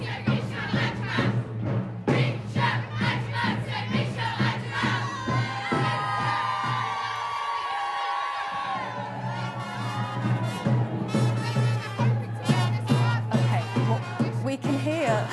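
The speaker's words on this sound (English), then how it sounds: "We can hear pretty much only cheering" A large crowd cheers continuously along the streets of Basel as runners pass, a loud, dense roar of shouts and whoops with rhythmic chanting pulses, steady and close throughout.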